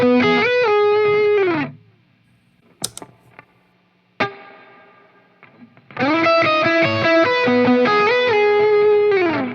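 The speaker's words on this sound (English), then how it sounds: "So the reverb unit I'm using there is a tube spring reverb." Distorted electric guitar played through an Ebo Everb tube spring reverb: sustained chords ring out, then cut to a quiet gap with a few plucked notes and a reverb tail, before loud playing resumes.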